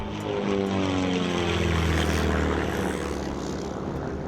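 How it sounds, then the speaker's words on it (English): Two propeller airplanes flying past close overhead at an outdoor sky show, a loud, continuous droning roar whose pitch slowly slides downward as they pass, with no talk. "The first airplane would pass the second, releasing a trail of smoke into which the second plane would disappear."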